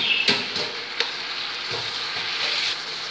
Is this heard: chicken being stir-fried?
yes